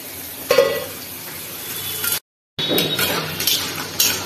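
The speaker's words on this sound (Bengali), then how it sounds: "ভাজছি উচ্ছে আলু ভাজা" Bitter gourd and potato pieces frying in oil in a pan, giving a close, steady sizzle with occasional utensil clinks and stirring scrapes, briefly cut off by a short silent gap before the frying sound resumes.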